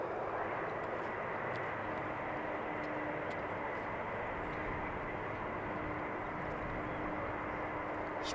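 An airliner arriving on runway 18R at Amsterdam Schiphol produces a broad, steady roar of engine noise that stays loud and unbroken throughout, heard from outside with no voices.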